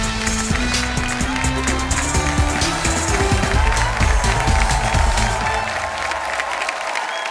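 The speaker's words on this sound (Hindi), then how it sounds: "प्लीज एक बार जोरदार तालियों से स्वागत करते हैं गुजरात से रोहन चावड़ा का।" A studio audience applauds loudly and steadily to welcome a performer onto the stage of a family comedy show, a dense wash of clapping that starts to thin out near the end.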